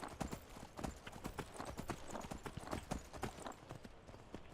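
Rapid horse hoofbeats pound in a fast galloping rhythm in the video game Skyrim, dense and continuous, with a soft rumbling background throughout.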